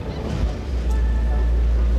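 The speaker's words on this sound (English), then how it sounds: "that's the engine" A lifeboat's steady low engine rumble drones continuously, loud and close, with a faint whine and rushing noise layered over it.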